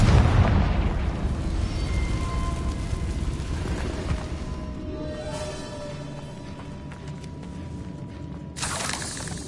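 A Confringo blasting spell erupts in Hogwarts Legacy, opening with a loud, dense explosive burst that slowly decays into a rumbling tail, with another sharp crackling burst near the end.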